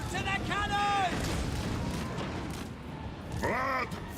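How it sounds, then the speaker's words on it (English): Cannon artillery in Total War: Warhammer booms in a broad rumbling volley through the middle of the battle, framed by shouting voices before and after. "Fire to the cannons!"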